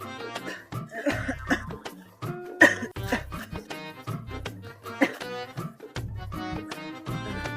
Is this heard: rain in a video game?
no